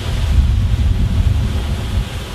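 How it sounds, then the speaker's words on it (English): Strong Santa Ana wind gusting to 80 miles an hour in San Diego during a wildfire roars and buffets the microphone with a heavy low rumble, loud and continuous with slight surges. "we're having gusts of 80 miles an hour in these uh, Santa Ana winds"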